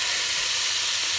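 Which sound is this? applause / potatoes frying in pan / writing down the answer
potatoes frying in pan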